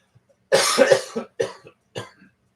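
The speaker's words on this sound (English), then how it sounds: "I have a little cough." A short fit of coughing nearby: one harsh burst followed by a few smaller coughs, then quiet.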